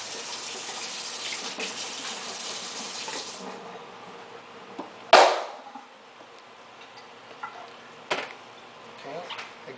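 Running water wets hands and a work surface while baguette dough is being folded, a steady close hiss for a few seconds, then quieter handling with a couple of sharp bumps.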